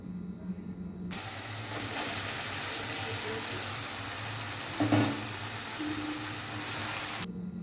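Picked fish pieces go into a spice masala and fry with an even, continuous sizzle at close range, with one brief louder clatter partway through.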